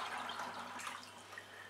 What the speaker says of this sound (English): I need a little bit more water. So approximately 2 liters or a little bit more. So adding some more.